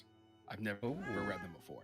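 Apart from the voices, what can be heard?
cat meowing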